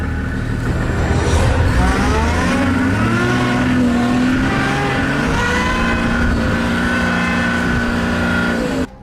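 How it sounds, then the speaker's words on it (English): A safari vehicle floored in reverse to escape a charging elephant, its engine roaring loud and steady with rising revving tones for the whole stretch, then cutting off abruptly at the end. "He floors it in reverse and gets away from the animal."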